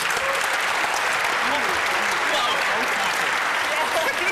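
Audience applause for quiz teams at a hacker congress quiz show, dense and continuous clapping from a large hall crowd, steady and fairly loud throughout, with voices faintly underneath.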